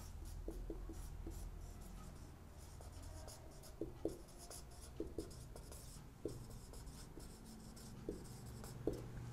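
Pen or chalk strokes as an equation is written out by hand during a thermochemistry derivation: quiet, close scratching and tapping in irregular short bursts, with a low steady hum behind it and no talking.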